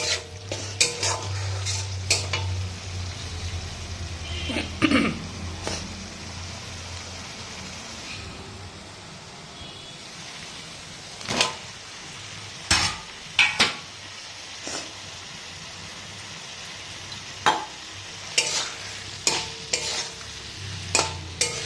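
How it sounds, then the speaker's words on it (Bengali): Soybean chunks, potato and pointed gourd are stirred into masala frying in oil in a pan. A steady sizzle runs under scraping spoon strokes and scattered metallic clinks against the pan, close by. "এখন ওই সয়াবিন আলু পটল সমস্ত কিছু এর মধ্যে দিয়ে দেবো"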